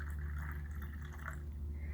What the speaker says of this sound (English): Okay, I'm going to pour it into my cup.